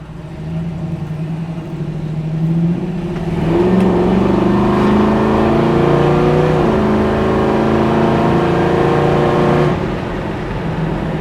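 A deep big-block 454 V8 in a 1971 Chevrolet Nova rumbles steadily, then revs up and pulls harder as the car accelerates, loud and close throughout.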